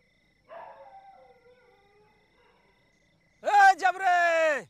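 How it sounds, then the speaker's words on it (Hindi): A dog on a farm field at night, urged to bark to keep jackals and nilgai out of the crops, gives a loud, close, drawn-out howling bark near the end, after someone speaks. "हाँ भौंक जरा भौंक"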